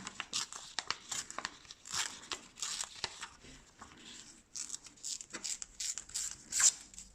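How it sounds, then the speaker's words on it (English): Sheet of paper torn slowly by hand in short controlled rips to form a rough deckled border, a run of close crinkling and tearing bursts with brief pauses, near and clear, no talking. "just rip my little border"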